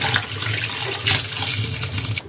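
Tap water runs steadily into a sink to soak goat meat taken from the freezer, in a windowless home kitchen; a continuous loud splashing hiss fills the whole stretch, cutting off abruptly at the end.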